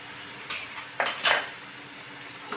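Spice paste being stirred into a peanut curry in a pan, heard as a few distinct metallic scrapes and clinks of a spoon against the pan, close and brief, over a quiet background.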